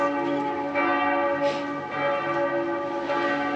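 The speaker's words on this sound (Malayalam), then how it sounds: "ഇത് ഇവിടുന്നാണ് പള്ളിയിൽ നിന്ന് ഇങ്ങനെ മണിയടിച്ചുകൊണ്ടിരിക്കുന്നു." Church bells ring in a Belgian town, steady resonant tones with repeated strikes swelling and fading, moderately distant and heard alone without talk.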